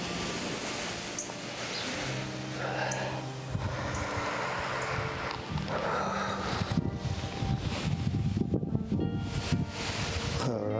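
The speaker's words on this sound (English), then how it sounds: "it's getting a bit windy now" Wind blowing outdoors, gusting against the microphone in a rough, rumbling rush that swells and buffets irregularly, growing stronger toward the end, with no speech.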